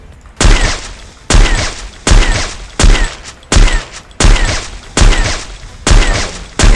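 An AWM sniper rifle in a shooting video game fires again and again, each loud booming shot followed by a quick bolt cycle, landing at a steady rhythm about every 0.8 seconds.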